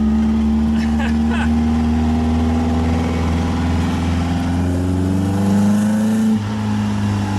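A 1915cc VW Manx buggy engine revs loud and close, its steady drone climbing in pitch as it accelerates, with a person talking over it.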